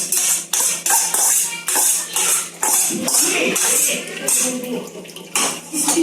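Boiled banana flower is wrung out by hand over a pot, giving splashy, dripping water sounds and wet clattering of a pot, with someone talking throughout at close range.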